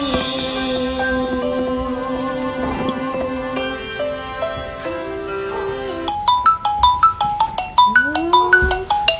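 A mobile phone ringtone announcing an incoming call, a loud melodic electronic tune with sustained tones that shift into a quick series of bright repeated chiming notes, no talk.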